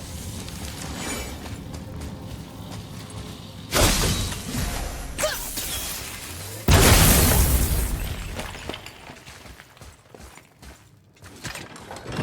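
Objects shatter in the God of War video game, two loud crashing bursts of breaking debris, each followed by rattling mechanical clatter and rumbling that slowly fades.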